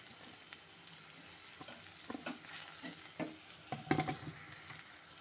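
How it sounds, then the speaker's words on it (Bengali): Vegetables for navratan biryani are stir-fried in a pan, giving a soft, low sizzle under repeated scraping and clattering strokes of a spatula, quiet and close, with no speech. "সমস্ত কিছু দিয়ে এখন একটু ভালো মতো করে নাড়াচাড়া করে একটু ভাজা ভাজা হতে দেব"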